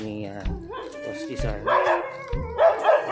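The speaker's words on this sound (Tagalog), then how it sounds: "Daming aso" Several dogs bark and yip at a house in Silang, Cavite, their overlapping calls fairly close and continuous under a man's speech.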